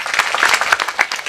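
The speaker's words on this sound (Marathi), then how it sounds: "टाळी वाजवा त्यांच्यासाठी एकदम." An audience claps at a devotional kirtan gathering, a brief, close burst of scattered hand claps with distinct individual slaps.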